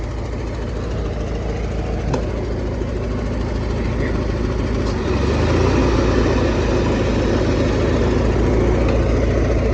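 A 1994 Craftsman GT6000 riding mower runs with its cutting deck engaged, a steady close-up engine drone with a low rumble that deepens and strengthens about halfway through, heard alone.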